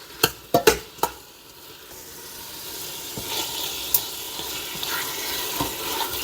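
Grated garlic frying with beef in an Instant Pot for beef vegetable soup, opening with several sharp spoon knocks against the pot, then a rising steady sizzle with occasional scrapes.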